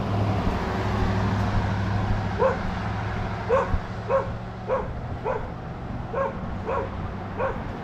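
Dogs bark on a rural road in Maine, a run of about nine regular yaps from a moderate distance, heard over a steady low rumble of passing traffic and outdoor background noise.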